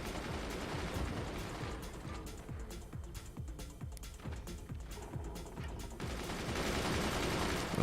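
Howitzers in the real-time strategy game Forts fire a rapid series of sharp booming shots, a dense rhythmic volley at moderate loudness with mechanical clatter between blasts.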